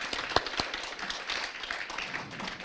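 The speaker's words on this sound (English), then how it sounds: "a big round of applause for all of the 5 winners for the Gold Award" Audience clapping for the five Gold Award winners at a Southeast Asia MIKE awards ceremony, a steady moderate round of applause with a couple of sharper claps standing out early on.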